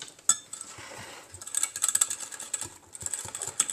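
Spoon stirring a sugary mixture in a cup, a run of quick light clinks and scrapes against the sides, close and fairly quiet.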